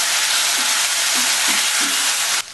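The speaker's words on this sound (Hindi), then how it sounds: "इस दही के मसाले के साथ इसे हम थोड़ी देर भूनेंगे।" Taro pieces fry with a yogurt paste of turmeric and salt in a pan over lowered heat, giving a steady loud sizzle with a few soft stirring scrapes, then the sizzle drops abruptly near the end.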